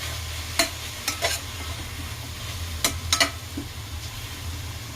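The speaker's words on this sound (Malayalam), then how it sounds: "നമ്മുടെ അരപ്പ് ഇതിലോട്ടിട്ട് കൊടുക്കാം. എന്നിട്ട് നമുക്കൊന്ന് മിക്സാക്കി കൊടുക്കാം." Ground coconut paste being stirred into avial in a pan, a few sharp scraping clacks of a spoon against the pan over a steady low background, close and moderately loud.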